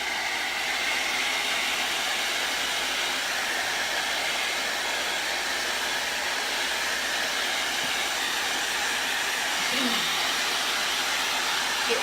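A hair dryer blows steadily and close at hand, drying red paint on a small wooden ball ornament, a continuous loud, even rush of air with no pauses.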